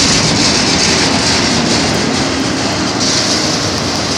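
A Norfolk Southern train running on Union Pacific track produces a loud, close, steady rumble and roar that fills the whole four seconds without a break.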